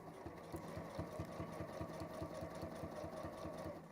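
A sewing machine stitches fabric in a continuous run, its needle thumping in a fast, even rhythm over a steady motor hum, close and fairly quiet.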